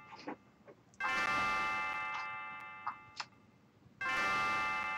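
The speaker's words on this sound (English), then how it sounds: "Oh, there's the bell." Bell chimes in the Chrono Trigger video game: two loud, sustained ringing tones with long decays, the first near the start and the second at the end, with a few short blips between them.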